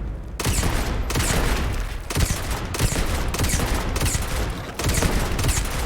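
Sustained bursts of gunfire from a Starfield firefight on an airless planet, loud dense volleys with repeated sharp cracks and short gaps, steady and close throughout.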